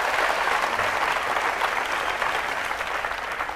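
Sustained applause from a studio audience on a Bhojpuri television quiz show, a dense, steady wash of clapping hands that holds at an even loudness throughout, with no voices standing out above it.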